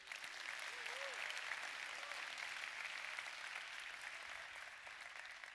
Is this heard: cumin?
no